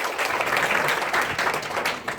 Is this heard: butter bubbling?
no